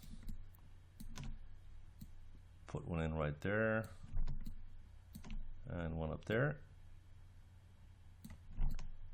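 Computer keyboard keys and mouse buttons clicking sporadically as a Maya 2016 3D modeling session goes on, sharp light taps scattered between and around a man's speech.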